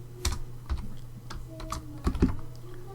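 Someone types a web address on a computer keyboard: a short, uneven run of crisp key clicks, close and clear, with no talking.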